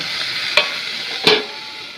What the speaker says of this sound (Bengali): উচ্ছে ভাজাটা এখানে হচ্ছে